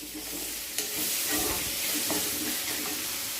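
Onions with a little salt fry in a pan with a dense, steady sizzle and a few clattering stirs, close and continuous, during the making of chicken green masala.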